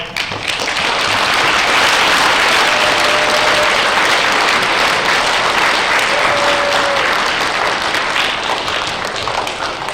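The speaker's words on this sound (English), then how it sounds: "So give yourselves a big round of applause." A school audience gives sustained applause, a loud, continuous wash of many hands clapping that stays full and even throughout, with a couple of faint tonal whistles or squeaks beneath.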